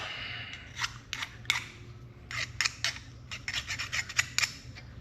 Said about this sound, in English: Clean the burrs up with a file.